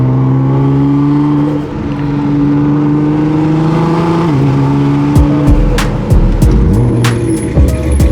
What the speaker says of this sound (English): You gotta be careful with the boost noises out here, but just listen.